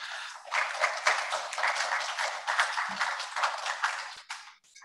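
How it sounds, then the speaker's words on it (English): Audience applause at a human rights film festival session, a moderate burst of clapping lasting a few seconds before trailing off. "One round of applause."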